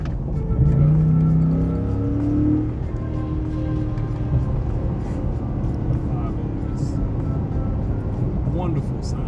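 A 2026 Ford F-150 Lobo pickup pulls away under throttle, its engine note rising as it accelerates, then settling into a steady drone with road and wind noise from inside the cab.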